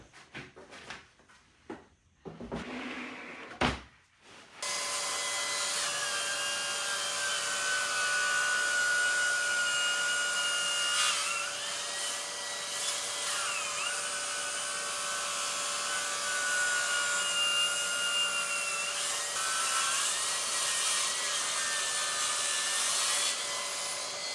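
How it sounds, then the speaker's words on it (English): A track saw runs steadily for about twenty seconds, cutting straight true edges along small wood scraps, after a few brief handling knocks at the start; the loud whining motor holds a constant pitch with slight shifts as the blade moves through the wood. "use the track saw to put one good true edge along each of these"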